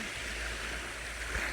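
Seawater rolls and washes in a continuous, even rush, moderately faint and steady throughout with no voices.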